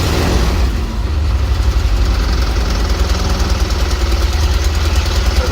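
An old truck engine with a worn-out carburetor idles while warming up, a loud, steady, close rumble with an uneven knocking pulse running throughout.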